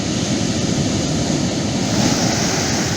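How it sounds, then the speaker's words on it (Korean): Ocean surf rolls in steadily on a wild creek-mouth beach along the California coast, a continuous broad wash of breaking waves with some wind rumble, loud and close, no voices. "파도 온다."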